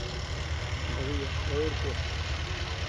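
A tractor engine idles with a low, steady rumble while people talk over it.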